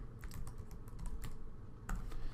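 Keys on a computer keyboard are tapped to enter a worksheet file name for upload to a Maple TA server, with quick close keystrokes in short bursts, a brief pause, then a few more clicks.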